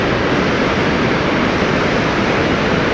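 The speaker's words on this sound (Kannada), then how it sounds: "ಎಷ್ಟೊಂದು ನೀರು ಹೋಗ್ತಾ ಇದೆ ನೋಡಿ ಇಲ್ಲಿ." A continuous, dense roar of water surging through the open gates of the Aruvikkara dam near Trivandrum, loud and close, unbroken and with no voices over it.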